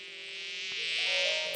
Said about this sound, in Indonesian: Tapi saat itu, seekor lebah masuk.